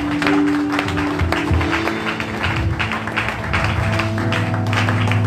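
A worship congregation claps and cheers together, a dense rhythmic wash of applause filling the room at full volume, with music and voices mixed in beneath it.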